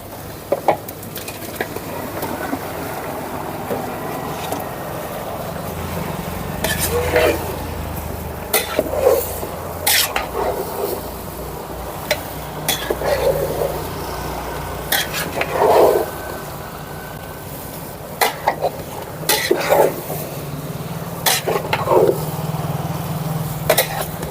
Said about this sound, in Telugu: ఇప్పుడు మనం ముందుగానే శుభ్రంగా కడిగి పెట్టుకున్న చికెన్ కూడా వేసేద్దాం